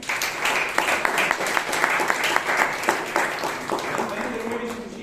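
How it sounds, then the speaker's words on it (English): Club members applaud Toastmaster Sheeb at a Bangalore Toastmasters meeting: sustained room clapping with distinct individual claps, thinning near the end as a voice begins speaking. "So one more round of applause to Toastmaster Sheeb"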